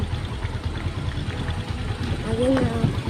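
Rushing water at Bolinao Falls forms a strong, steady roar close by, with people talking and exclaiming over it.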